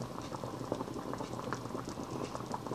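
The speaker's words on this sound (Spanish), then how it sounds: "Miren, miren cómo va hirviendo el agua." Water boils in a pot while a sweet potato flan cooks, a quiet close patter of small bubbles popping and rumbling continuously, with no talking.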